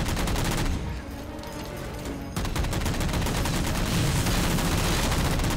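Two weapon types fire at the same time in the Halo 4 shooter game, producing dense, loud bursts of rapid gunfire. A brief lull breaks the fire before it resumes at full intensity.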